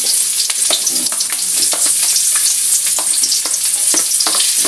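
Garlic, onion and ginger fry together in a pan with a loud, continuous close sizzle and scattered stirring clicks and scrapes. Nobody talks.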